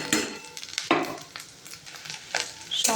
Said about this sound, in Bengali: সমস্ত কুচি করা মশলাগুলোকে আমি কিছুক্ষণ সময় ধরে ভেজে নেব।